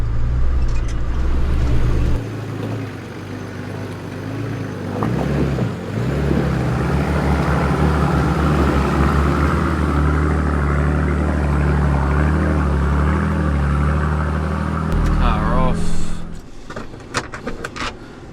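A 4WD engine holds a steady throttle on a wet forest track, a constant low drone close by with slight rises and dips and a few knocks and rattles near the end.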